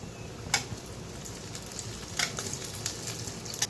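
Fritters (bora) frying in oil crackle and sizzle steadily, with a few sharp clinks and spatters as they are turned one by one in the pan, close and without talk.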